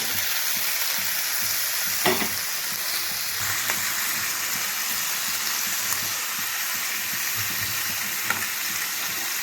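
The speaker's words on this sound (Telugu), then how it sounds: "సో ఈ టమాటాలు వేపుకోవాలి" Native desi tomatoes frying in a pan for a mint-tomato roti chutney, a constant close sizzle and hiss broken by a few sharp stirring clicks, no speech.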